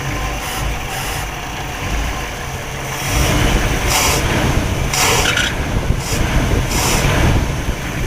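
A 1959 Bel Air's 348 engine idles, then revs harder with a rougher, louder rumble, thin high belt squeals surfacing in short bursts as it speeds up.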